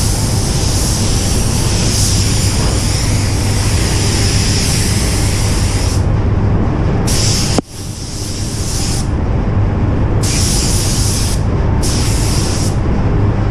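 A spray gun at about 1.5 bar lays a light dusty coat of paint on new car body parts from roughly 30 centimetres, a loud continuous hiss with brief pauses and bursts as the trigger is released and pulled again.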